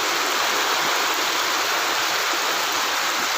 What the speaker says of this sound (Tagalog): Malakas na naman po ang ating ulan.